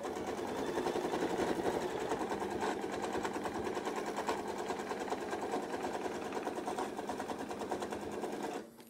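A sewing machine double-stitches a quilt during ruler-work quilting, running as one steady, close, continuous mechanical whir for several seconds before stopping abruptly at the end.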